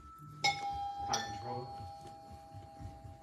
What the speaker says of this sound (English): We have the weirdest doorbell ever.